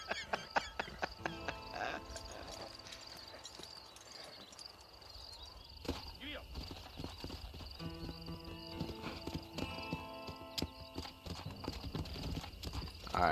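Horse hooves clip-clop steadily in the Western video game Red Dead Redemption. The close, rhythmic hoofbeats sit over ambient outdoor sound with chirping insects and occasional tack noises.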